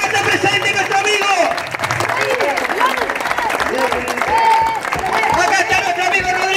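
A crowd applauds and cheers for Rodrigo, a friend being honored at a gathering for his cause, with loud sustained clapping mixed with shouting voices and babble throughout.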